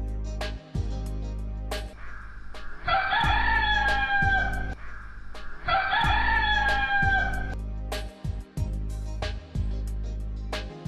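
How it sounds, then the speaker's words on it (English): A farmyard hen, heard as a loud, close crowing call repeated twice in a long rising-and-falling sequence over soft background music in a storybook barnyard scene. "And the hen cackled."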